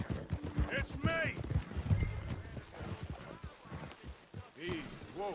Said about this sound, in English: let's hitch this horse